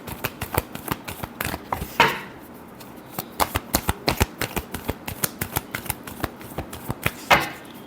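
Tarot cards are shuffled by hand in quick, close, crisp riffles and taps, a rapid irregular run of light slaps with two louder bursts.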